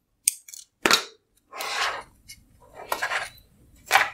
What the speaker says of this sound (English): Okay, now let's take the working wire and just wrap it around. Okay, and going to snip this off.